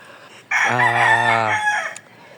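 A single rooster crows loudly and close by, one long drawn-out call lasting about a second and a half against a quiet background.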